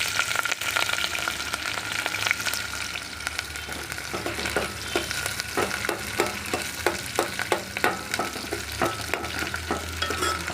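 Onion and green chillies fry in a pan for a soya pulao, a steady broadband sizzle with repeated scraping stir strokes in a loose rhythm, close and fairly loud, no voices.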